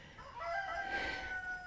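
A backyard garden rooster crows once, loud and close, a drawn-out ringing call held for over a second over quiet ambience.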